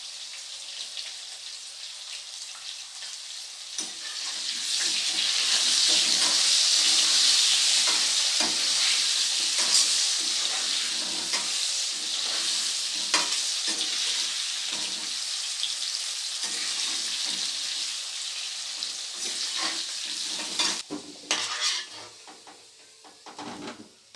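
Potatoes fry in oil with salt and turmeric, a steady close hiss that swells to full strength, rattles with stirring and fades near the end.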